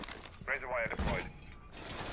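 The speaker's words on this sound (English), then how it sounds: "Razor wire deployed." A coil of razor wire unfurls during a Rainbow Six Siege match, giving a brief clattering, ratcheting metallic rattle with a short whirring sweep, close and fairly loud over the game's low background hum.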